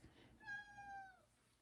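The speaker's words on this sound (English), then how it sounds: "Oh, that's Lila the cat" A cat gives a single, faint, drawn-out meow that rises and then falls, about a second long, against a quiet background.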